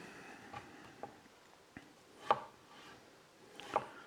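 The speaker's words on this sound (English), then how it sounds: "And we basically want to cut it into cubes" Apples being cut into cubes with a knife: sparse, quiet taps against a cutting board, two slightly firmer chops standing out among softer clicks, close and without speech.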